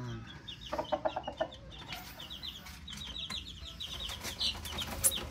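Twelve-day-old Miner blue cross McLean and pumpkin chicks squabbling in a newly built coop, with rapid high peeping calls and scuffling, flapping bursts close by.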